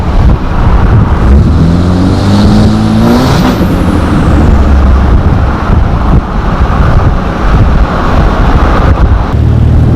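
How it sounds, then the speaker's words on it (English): A 2005 Cummins diesel truck with upgrades roars loudly under wind buffeting, its turbo whine rising in a high pitched sweep as the engine pulls, no voices. "You just hear that turbo whine."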